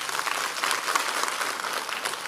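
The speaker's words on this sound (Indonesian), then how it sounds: "Tepuk tangan dulu buat Bernard ini." A church congregation applauds for a young boy named Bernard, a brief, even wash of many hands clapping from a little distance.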